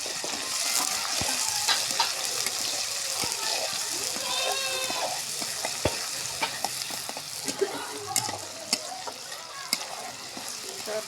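Chopped garlic and cumin seeds with white cardamom fry in a pan for Bangladeshi chotpoti, a steady close sizzle with spoon scrapes and stirring clatter running throughout.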